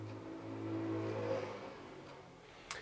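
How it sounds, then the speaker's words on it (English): A moped passes on the road just outside a bedroom window, its small engine rising and then fading over a few seconds, heard faintly at a distance. "So that was a moped going past."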